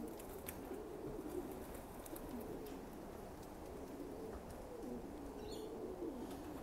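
Racing pigeons in heavy moult coo softly around their loft, a steady low murmur of overlapping calls with faint chirps, distant and quiet throughout.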